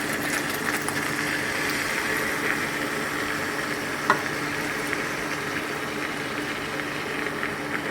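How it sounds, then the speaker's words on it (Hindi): Beef trotters (paye) fry in a pot with red chilli powder, turmeric and salt for Karachi-style paye, a steady low sizzle and bubbling hiss running continuously at moderate level, with one brief clink of a utensil partway through. "अब इसको भूनते जाएं।"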